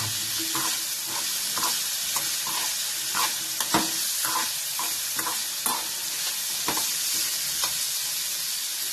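Tomatoes roasting and being stirred in a pan over a raised gas flame, a steady close sizzle broken by repeated scraping and tapping strokes of a utensil, with no voices.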